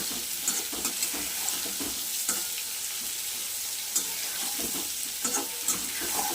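Chopped onion sizzling in hot oil as it is stirred in a pan for a fish curry with potato and pointed gourd, a steady close fry broken by frequent scraping stir strokes, no voices.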